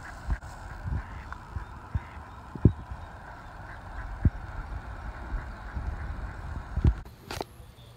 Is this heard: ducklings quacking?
yes